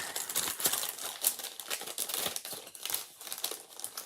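Crinkly craft material crackles and crunches as it is folded and scrunched by hand, a close, busy run of irregular crinkling with no talk.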